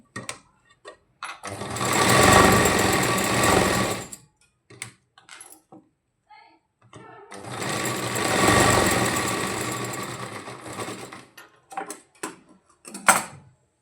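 A sewing machine stitches back tucks on a blouse in two long, steady runs of close, loud mechanical whirring, each about three seconds. Short taps and clicks of handling the fabric fall between the runs.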